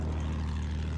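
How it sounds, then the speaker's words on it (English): In the video game Battlefield 1, a propeller attack plane drones overhead, a loud, steady low engine rumble filling the whole second with no speech. "Attack plane up over B."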